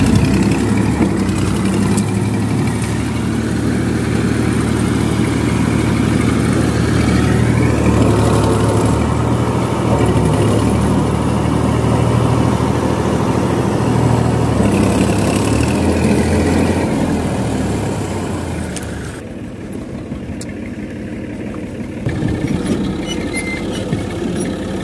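A Massey Ferguson 240 tractor stuck at a home runs its diesel engine with a steady, throbbing mid-low drone. The drone holds level for a long stretch, then drops in loudness near the end.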